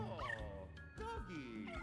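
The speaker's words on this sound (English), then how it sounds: "the lovable pup from beyond, Polterpup" Playful, synthetic-sounding barks and yips of Polterpup, the ghost dog from Luigi's Mansion, high and bouncy, layered with tonal game effects and some voice.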